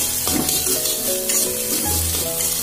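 Spices hit egg pasta noodles frying on full flame in a pan, giving a loud close sizzle with a few sharp bursts and stirring scrapes, and no talking.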